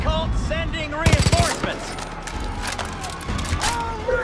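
Rapid bursts of gunfire in Far Cry 5, a loud volley of close shots near the start followed by scattered shots under game music and effects.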